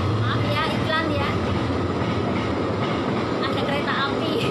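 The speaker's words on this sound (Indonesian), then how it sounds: "Ada kereta api. Di sini dekat jalan jenengan." A train passes close to a road, a loud steady rolling rumble with faint clacking and squeal that continues throughout, with people talking over it.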